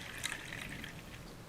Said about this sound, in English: I should be able to pour in buffer